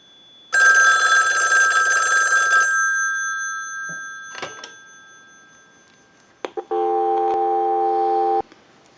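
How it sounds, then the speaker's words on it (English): An ITT 554 rotary wall telephone first rings a loud bell burst, then after a few sharp clicks a steady, humming dial tone sounds for nearly two seconds before cutting off. "we'll give you some dial tone"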